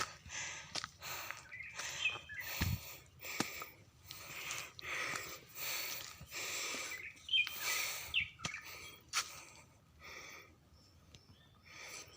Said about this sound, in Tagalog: may narinig na akong ibon.